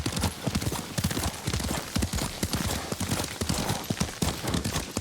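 Close, rapid hoofbeats of a ridden horse in Ghost of Tsushima: a continuous, rhythmic clip-clop as it gallops, with no talk over it.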